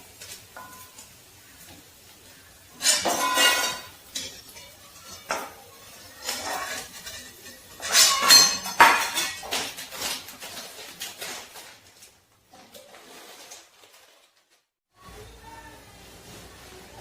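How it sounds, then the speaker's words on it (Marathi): Fried edible gum (dink) lifted out of a pan for winter laddoos, with loud clanking bursts of metal utensils against the pan separated by quieter gaps. "बघा आपलं डिंक आता तळून झालेलं आहे. आता आपण काढून घेऊया."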